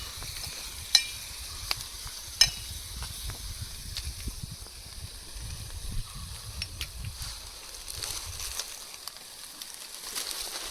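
Quiet sizzling of crab curry frying in a pan, cooked outdoors in the countryside, with faint scraping and stirring and scattered light clicks; no talk.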